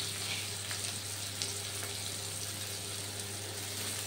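Chopped onion fries with tomato in a pan, giving a steady, even sizzle and hiss that stays faint and constant throughout, with no talk.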